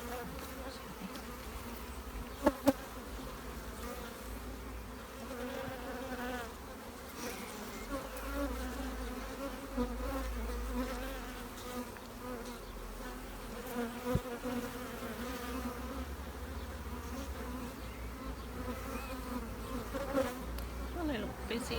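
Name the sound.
honeybees buzzing while foraging in a garden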